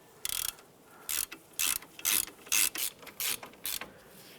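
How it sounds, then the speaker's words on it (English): A hand ratchet snugs bolts during a CV axle replacement on a 2001-2005 Honda Civic, giving a series of about eight short clicking bursts in an uneven rhythm, close up and with no talking. "we'll snug those down with our ratchet"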